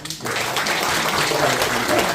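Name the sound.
congregation applause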